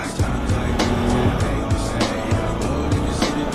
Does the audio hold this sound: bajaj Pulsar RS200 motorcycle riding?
yes